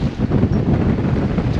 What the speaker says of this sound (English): 24 knots of wind